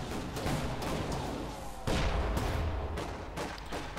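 In the World War II strategy game Company of Heroes 2, an M10 tank destroyer fires amid a battle, with repeated booming blasts and crackling gunfire layered over continuous rumbling combat noise.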